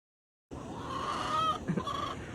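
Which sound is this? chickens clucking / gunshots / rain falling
chickens clucking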